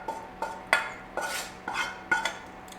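Cooled cooked onion and garlic tipped from a pan into a mixing bowl for sausage rolls, heard as a series of close clinks and scrapes of utensil on dish, about half a dozen short knocks with soft rustling between, no talking.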